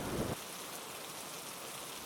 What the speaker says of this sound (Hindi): तभी जोर जोर से बारिश होने लगी और बारिश के साथ साथ ओले भी पड़ने लगे।